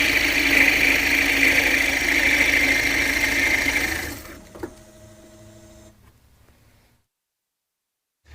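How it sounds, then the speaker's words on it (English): A drill press bores a hole in hard maple with a 1 1/2 inch BORA Forstner bit, a loud steady mechanical whir with a harsh cutting tone that stops abruptly, leaving a brief fading hum and then silence. "Now in a drill press,"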